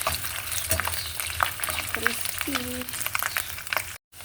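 Pork sizzles and crackles steadily in a hot pan as it crisps, a dense frying hiss with occasional stirring clatter and a brief faint tone.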